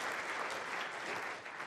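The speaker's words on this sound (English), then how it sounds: "I want everyone to continue that round of applause for Aaron, for Jennifer," Steady, dense audience applause fills a keynote hall at a business analysis conference in Chicago, continuous and fairly loud throughout with no break, easing slightly near the end.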